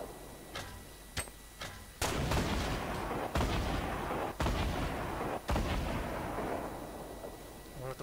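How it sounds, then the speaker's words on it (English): Grenade launcher fire in a first-person shooter match: several heavy, booming blasts land in quick succession, each with a sharp onset and a rumbling decay, loud and close, preceded by a few softer distant shots. "He's got a grenade launcher."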